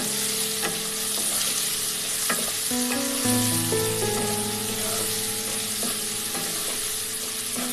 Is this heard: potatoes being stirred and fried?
yes